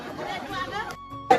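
A large crowd mills on a busy railway platform on Independence Day, with a dense babble of many voices close around and a louder burst at the end.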